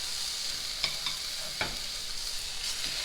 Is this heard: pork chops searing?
yes